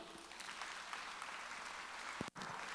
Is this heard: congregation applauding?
yes